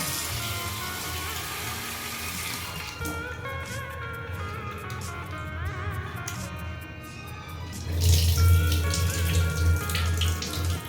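Tap water running steadily into a bowl while sprouted green mung beans are rinsed, splashing louder for the last few seconds as the flow hits the beans.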